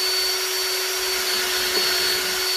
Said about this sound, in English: I've drilled my 2 holes on each side.